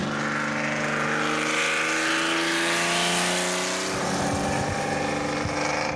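A Jaguar car engine revs hard on a race track, loud and close, its rising whining tone climbing steadily before easing and pulsing again near the end.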